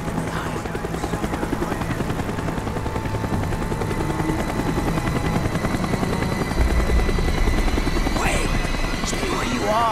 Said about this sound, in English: Chopper is coming around again.